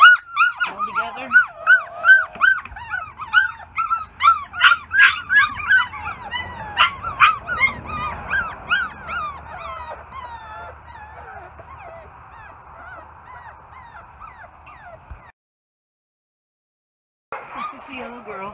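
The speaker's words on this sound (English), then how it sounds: "that's all the black puppies from Izzy." A litter of black puppies whimpers and yips in a busy chorus of overlapping high-pitched cries that is loud at first, then fades into softer whines. There is a short silent gap before the yelping returns.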